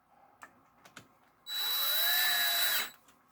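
A few faint clicks, then a power drill whirs loudly for about a second and a half, its pitch rising as it spins up before stopping, during a Magician 250 clutch spring upgrade.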